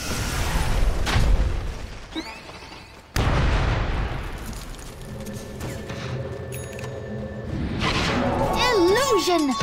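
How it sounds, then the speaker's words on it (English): In a Dota 2 match with Earthshaker, an Echo Slam explosion lands with a sudden booming hit, layered among whooshes and other game effects amid constant busy noise, while a voice talks over it. "explosion!"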